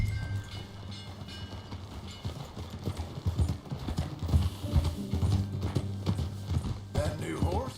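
Horse hooves clip-clop on a ranch, a rhythmic run of distinct, fairly close hoofbeats that grows louder over several seconds, with some mechanical rattling and faint voices in the background.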